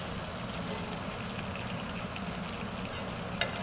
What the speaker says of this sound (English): Get the bacon down in here while the pan's cold.